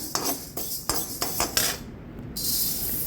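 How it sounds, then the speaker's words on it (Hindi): Half a bowl of fenugreek seeds is dry-roasted in a hot kadhai for stuffed pickle, after mustard seeds. A spatula scrapes the metal in about five quick rhythmic strokes, ending in a steady dry hiss. The sound is close, with no talking. "हम भूजे हैं इसी गरम कढ़ाई में डालकर आधी कटोरी मेथी दाना"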